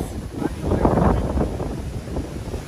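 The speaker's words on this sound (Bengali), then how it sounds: "কারণ এখানে অনেক বাতাস" Strong wind buffeting the microphone in a London park, with gusty low-pitched rumbles that swell and ease over a few seconds.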